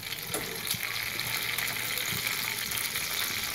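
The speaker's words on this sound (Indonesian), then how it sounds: "proses berikutnya adalah menggoreng cabai ini teman-teman" Chili peppers fry in hot oil in a pan, giving a steady dense sizzle and crackle with occasional small pops and stirring sounds, continuous and close without any voices.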